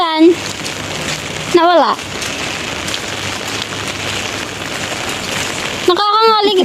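Rain falls steadily outdoors in Hong Kong, a constant hiss of drops on surfaces heard close by, while someone speaks briefly over it at the start and end.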